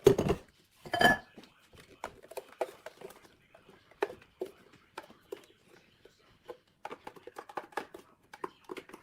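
A spoon scrapes and clinks against a bowl as chocolate smoothie with Nutella is scooped in, giving a run of short, close taps and knocks with brief pauses between them and a voice speaking now and then.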